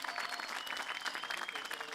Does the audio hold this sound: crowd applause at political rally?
yes